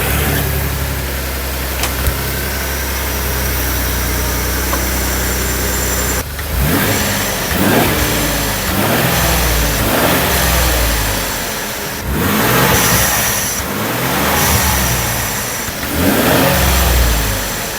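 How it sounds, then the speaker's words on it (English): A Ford F150 with a 3.5 EcoBoost V6 and a cold air intake idles, then rises through several loud, close revs, each swelling and falling back toward idle. "I'm gonna go ahead and start it, do some revs, and see if hot side piping,"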